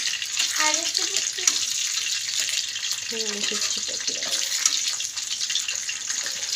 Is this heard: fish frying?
yes